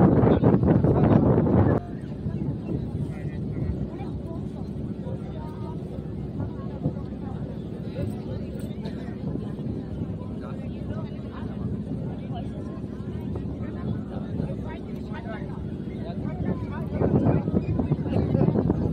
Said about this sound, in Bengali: এখন আমরা রয়েছি ঠিক গঙ্গা নদীর মাঝখানে, আর ওই দিক থেকে আসছে আমাদের আরেকটি নৌকা।